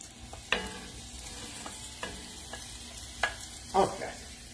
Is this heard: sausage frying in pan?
yes